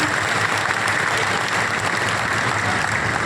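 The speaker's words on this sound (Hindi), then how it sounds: "एक बार जोरदार ताली आपकी बजनी चाहिए" Steady, thick audience applause at a public political gathering, loud and unbroken throughout the short stretch with no clear talking.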